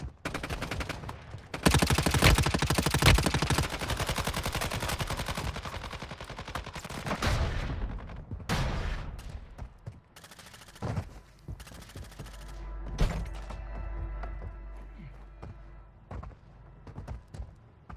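In Warzone Mobile, a decoy grenade fakes gunfire with loud, rapid bursts of shots, followed by scattered thuds and sparser shots; quieter, mixed game noise comes later.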